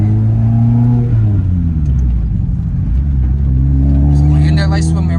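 A Subaru WRX with an FA20 engine runs with a cylinder 4 misfire, giving a loud, close, uneven rumbling idle that wavers in pitch and carries on without a break.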